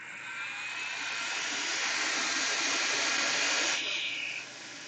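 A hot air tool blows steadily on a MacBook Pro A2442 logic board to dry it, a continuous loud airy hiss with a bright whine that holds for several seconds, then drops in level near the end.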